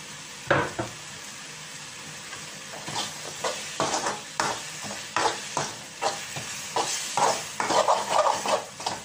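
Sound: sautéing fish curry masala with curry leaves in pan

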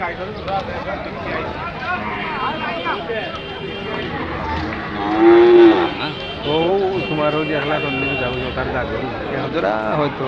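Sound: bull at a cattle market

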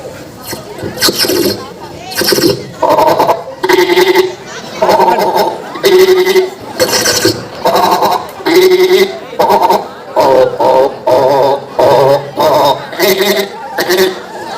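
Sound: voice imitating frogs croaking

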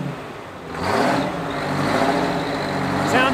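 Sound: Big Bud tractor engine being started

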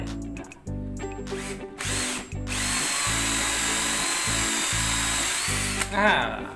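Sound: electric drill boring into wood

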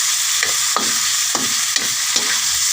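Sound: cooking balatong (mung beans) with tomatoes in a pan

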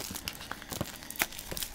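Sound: tearing open the packaging of a Nook GlowLight e-reader box

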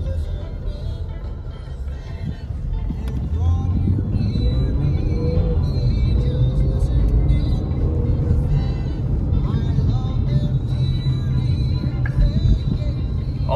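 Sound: car launching and accelerating hard

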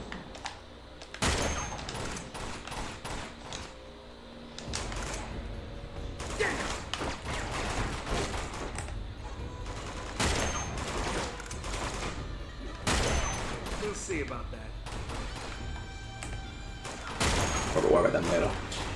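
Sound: gunfire in Uncharted 2 video game

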